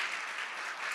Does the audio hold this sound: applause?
yes